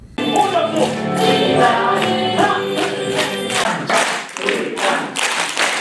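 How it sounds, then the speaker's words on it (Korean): A group of participants claps their hands together in a dementia prevention exercise session, producing rhythmic bursts of close, loud claps with short pauses between rounds. "자칫 지루할 수 있는 손뼉치기 프로그램을 재치 있는 언어 유희를 통해 참가자들의 동참을 유도했습니다"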